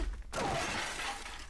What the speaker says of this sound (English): So how much glass can we have in this room that will break if we throw people into it?